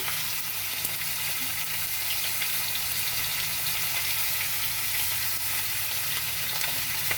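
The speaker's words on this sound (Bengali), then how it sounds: "ফোড়নটা ভাজা ভাজা হলে" Whole panch phoron spices fry in hot oil, a loud, even, unbroken hiss of sizzling heard up close throughout, with no voices.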